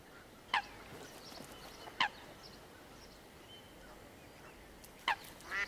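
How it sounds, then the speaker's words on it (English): Waterbirds on the Rhine in winter, with mute swans, black-headed gulls and coots: a few short, sharp honking calls spaced apart, faint and moderately distant over a quiet background of rushing water. "many animals come to the river in search of food. Mute swans, black-headed gulls,"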